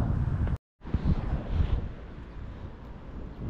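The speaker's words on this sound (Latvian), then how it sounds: "Tas vējš tā nerimstās." Steady outdoor wind rumbling across a microphone by the water during a Sunday fishing outing, a continuous low roar with gusty swells and one brief dropout near the start.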